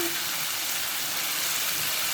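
Boiled, sliced beef lung fries in a pan, giving a steady, dense sizzle that stays loud and even throughout with no voices.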